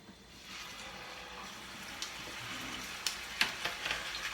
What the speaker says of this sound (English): you'll get to hear that lovely sizzle when we put it in the pot